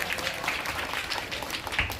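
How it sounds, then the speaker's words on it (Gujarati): An audience at a primary school's Rangotsav event in Khedbrahma claps in a steady burst of loud, close applause lasting about two seconds. "જોરદાર તાળીઓ થઈ જાય."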